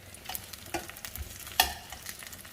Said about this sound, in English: Pan-fried sausage.